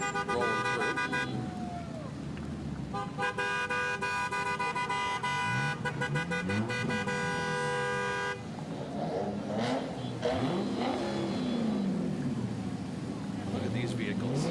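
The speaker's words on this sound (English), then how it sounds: "You can hear the rev of the engines." Antique, vintage and classic cars of a county car club roll through a Fourth of July street parade at walking pace, engines revving and rumbling steadily under crowd noise and talk, with a horn toot.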